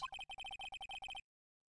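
A telephone rings in a rapid series of short electronic trill bursts, about a dozen quick pulses, clear and close, then it stops into silence.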